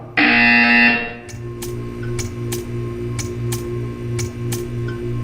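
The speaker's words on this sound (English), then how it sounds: "You will hear a buzzer." A steady pulsing buzzer tone repeats in a regular on-off rhythm inside the Portal 2 video game, following a brief louder electronic tone at the start, with no talking.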